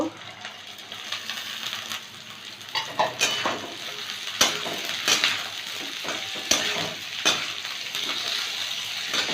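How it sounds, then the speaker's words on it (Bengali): Chopped carrot and beans frying in a pan for an oats dish, a steady sizzle punctuated by sharp metallic clinks and scrapes of a utensil against the pan at irregular intervals, close and moderately loud, with no talking. "বিন আর গাজরটা দু মিনিট ভেজে নেব"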